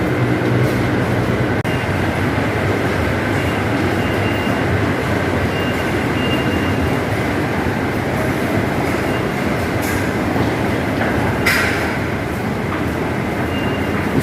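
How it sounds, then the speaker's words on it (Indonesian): An MRT subway train runs through a Jakarta metro station with a loud, steady rumble and rolling wheel noise, with occasional squeals and clicks, close and continuous throughout. "ada di stasiun MRT"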